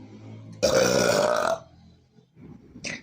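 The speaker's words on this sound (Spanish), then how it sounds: "eructa como un niño." A girl lets out one long, loud burp lasting about a second, followed by quiet rustling and a short higher-pitched sound near the end.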